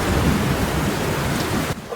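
Heavy rain roars steadily with rumbling thunder woven through the downpour, loud and close, then cuts off abruptly just before the end.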